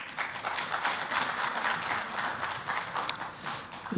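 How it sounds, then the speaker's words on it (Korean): An audience at an association's annual general meeting gives steady applause, a soft continuous patter of many hands clapping at a moderate distance, with no voices over it. "박수 한번 해주세요"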